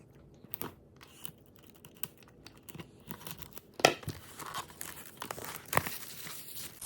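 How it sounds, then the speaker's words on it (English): Gold vintage scissors snip through packaging and strip away plastic film during a nail gel unboxing, giving soft crinkling and tearing with a couple of sharper crisp snaps, close and quiet, with no talking. "I will be going in with my gold vintage scissors to unbox this and remove the plastic film on it"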